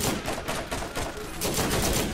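Turret gunfire in the video game Borderlands, a dense rapid burst of automatic shots rattling continuously for a couple of seconds, loud and close.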